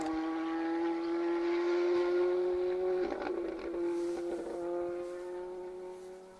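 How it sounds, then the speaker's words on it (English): A Ford Fiesta R5 rally car drives through a stage of the Carryduff Forklift Down Rally with a strong, steady engine drone. The pitch shifts partway through, and a brief gritty rasp follows as the car passes. "Car 36 then. Darren McKelvey, Dean O'Sullivan in their Fiesta R5."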